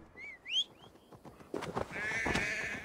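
Sheep in the game Assassin's Creed Valhalla give a few short, wavering bleats near the start, then fade under louder, busy in-game noise and movement.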